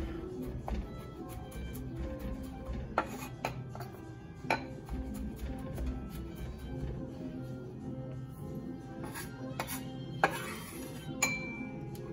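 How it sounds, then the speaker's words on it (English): Minced garlic scraped into a small glass bowl in a home kitchen, scattered light clinks and taps of utensil on glass and dishes, a few sharper pings spread over a quiet background. "we'll put the minced garlic in its own little bowl"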